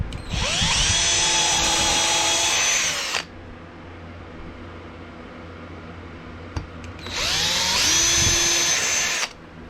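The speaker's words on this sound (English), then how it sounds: "You always want to pre-drill, especially on this soft pine" A power drill pre-drilling soft pine whines loudly for about three seconds, stops, then runs again for another two-second burst, close by, with quiet pauses between.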